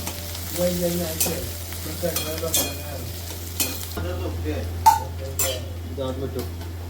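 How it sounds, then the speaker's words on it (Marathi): Onion frying in oil in a pan for mutton curry, a low steady sizzle under repeated spoon stirring and clinks of utensils against the pan, with bursts of voices talking over it. "कांदा गोल्डन ब्राऊन करायचा आपल्याला. हा तेल आहे ना."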